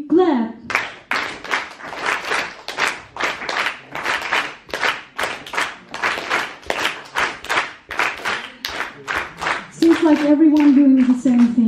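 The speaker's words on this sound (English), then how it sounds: "I'm saying 1, 2, 3, clap, and then you start." Concert audience clapping together in a steady rhythm, many hands striking in unison in loud regular beats for about ten seconds, followed by a voice at the end.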